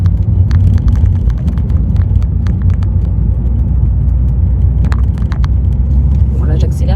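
A car accelerating away from a village, its engine a strong steady low rumble throughout, with someone speaking over it.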